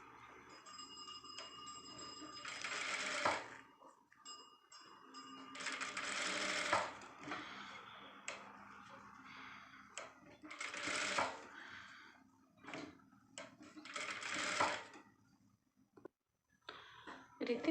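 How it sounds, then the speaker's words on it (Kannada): Sewing machine stitching along the shaped edge of a designer blouse, running in several short bursts of rapid needle chatter separated by pauses, close and moderately loud. "ಈ ರೀತಿ ಟರ್ನ್ ಮಾಡಿಕೊಂಡು ನಿಧಾನಕ್ಕೆ ಎಡ್ಜ್ ಶೇಪ್ ಇರೋ ಹತ್ರ ನೀಟಾಗಿ ನೋಡ್ಕೊಂಡು ಹೊಲಿಗೆ ಹಾಕ್ಕೊಳ್ಳಿ"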